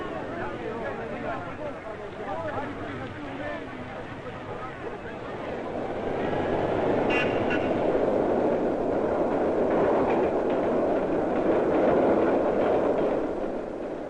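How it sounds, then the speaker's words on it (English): A New York subway train from 1949 rumbles along its rails, a steady dense roar that swells louder midway, with a spoken narration running over it throughout. "trains go underground into subways and tunnels as they approach the crowded areas of the city"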